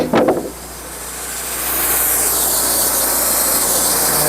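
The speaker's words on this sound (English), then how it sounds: "take another skim cut," A portable sawmill blade takes a skim cut along a log, starting with a short clatter, then a steady, loud whine and rushing hiss of cutting that holds on to the end without voices.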